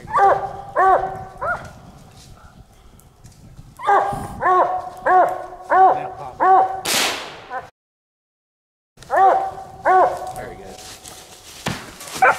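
Hunting dogs bark at a raccoon outdoors at night, repeated loud bursts of barking in groups, with a sharp crack and a short gap midway.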